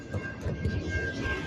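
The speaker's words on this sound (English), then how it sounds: "this is what trains look like in Michigan" A train rolling past in Michigan, its rumbling wheels and rattling cars loud and close, with a steady high tone running through.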